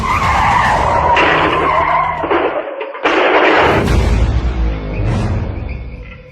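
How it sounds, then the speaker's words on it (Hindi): A dramatized car crash effect in a horror story: loud tire squeals and skidding build, cut off by a sudden gap, then a heavy crash burst and scraping rumble as the car hits a tree, fading away. "गाड़ी का बॉनेट अपने आप अचानक खुल गया और सामने का शीशा चकनाचूर होकर ऐसा बिखरा कि गाड़ी सीधे सामने एक पेड़ से जा टकराई"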